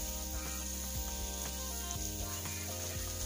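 Sausages browning in a pan for a Cajun chicken and sausage pasta, giving a steady, close sizzle with occasional soft pops and stirring.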